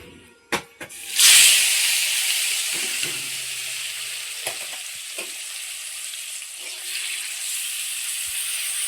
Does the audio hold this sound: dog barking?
no